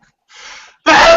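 A sharp inhale followed by one loud, close sneeze that bursts out abruptly and ends the clip, with no talking.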